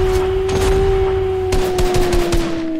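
Rapid gunfire from henchmen in the video game Fortnite, a steady stream of closely spaced shots with a few sharper bursts, loud and continuous over a sustained background tone.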